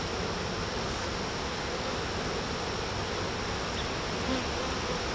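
Honeybees swarming around an open beehive with honey supers, a dense, steady buzzing hum that fills the whole scene, close and loud with no pauses.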